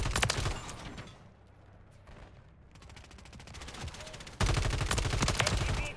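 Rapid automatic gunfire from a first-person shooter game, Modern Warfare 2 with akimbo RAM rifles, loud bursts at the start, a quieter stretch of scattered shots, then a sustained heavy stream of rounds near the end.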